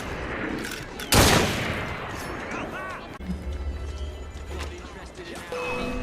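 A loud, sharp gunshot volley cracks out in Assassin's Creed Syndicate, followed by scattered thuds, clatter and further shots amid game noise. Voices speak over parts of it.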